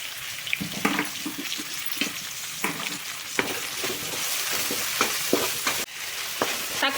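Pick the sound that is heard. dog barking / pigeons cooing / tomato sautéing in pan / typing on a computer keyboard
tomato sautéing in pan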